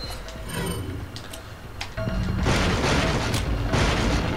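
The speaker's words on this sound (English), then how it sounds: "Man, they bang on that door really loud." Loud, repeated banging on a door in the video game Resident Evil 4, a dense run of heavy thuds that grows louder and more continuous partway through, with faint game ambience behind.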